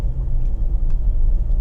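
A struggling engine in a 1990 Pontiac Turbo Grand Prix ASC McLaren edition, a loud, low, steady rumble heard from inside the car as it crawls along.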